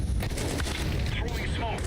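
Grenade blast in Counter-Strike, a dense rumbling boom with crackling gunfire-like bursts filling the whole moment over a busy low-end game mix.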